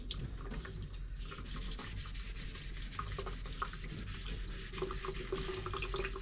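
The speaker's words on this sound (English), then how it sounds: "So we're simply going to scrub this lightly." Water runs and splashes steadily while the steel part of a Berkey water filter is lightly scrubbed, producing soft rhythmic rubbing and trickling, fairly quiet and close, with no talking.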